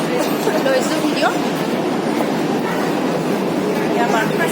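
Inside a moving Delhi metro train, a steady rumbling rail roar fills the carriage, with faint squeals and chatter from passengers talking nearby.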